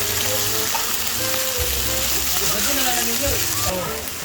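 Onion, garlic and tuna flakes sizzle in hot cooking oil in a pan, a constant close frying hiss with a voice talking over it.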